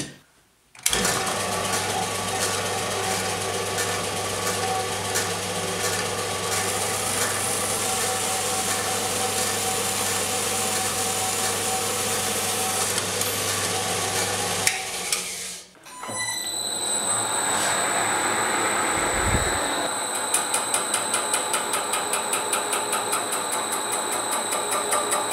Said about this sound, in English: I'm going to make a cut with the bandsaw straight through here